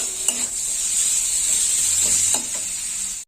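Mustard paste sizzles in a hot pan while a spoon stirs it, a steady close hiss with a couple of soft scraping strokes against the pan.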